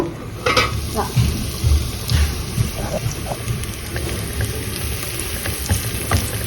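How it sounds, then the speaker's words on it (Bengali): Onion, garlic, dried red chilli and a small pinch of panch phoron frying in hot oil, with a dense, crackling sizzle and a few scraping stirs close by, and no talking. "এই যে পেঁয়াজ রসুন কাঁচা মরিচ সরি শুকনো মরিচ আর অল্প একটু পাঁচফোড়ন"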